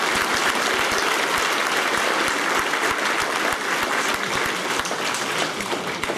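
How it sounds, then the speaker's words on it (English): An audience at a Year 6 graduation ceremony claps in dense, sustained applause that stays loud and even for several seconds with no speech over it. "Let's have a big clap for them anyway."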